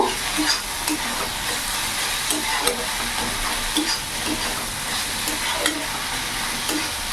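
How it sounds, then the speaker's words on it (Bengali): Water spinach (kalmi greens) is stir-fried in a pan with a constant sizzle, while a spatula scrapes and tosses the greens in regular, close, repeated strokes. "এবার একটু নাড়াচাড়া করে একটু ভাজা ভাজা করব"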